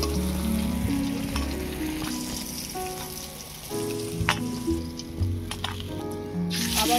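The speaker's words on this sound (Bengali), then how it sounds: "আবারও বাকি মাছ ভেজে নেব" Katla fish pieces frying in hot oil, a steady, dense sizzle crackling throughout with occasional sharper pops, close and continuous with no voices.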